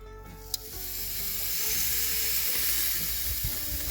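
Burger patties sizzle loudly over charcoal and oak on a grill, a dense, steady hiss that builds after a sharp click at the start and then holds without talk.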